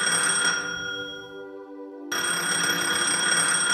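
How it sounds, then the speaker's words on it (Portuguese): Telephone rings in a bakery, steady bell-like trilling in two bursts separated by a short pause, loud and close with no voices. "Na padaria, Paulo atendeu o telefone."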